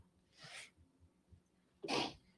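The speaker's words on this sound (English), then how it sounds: "Sorry, I'm gonna sneeze." A single person sneezes twice in a quiet room, a short muffled first burst followed a second later by a louder, fuller sneeze, with light breathing between.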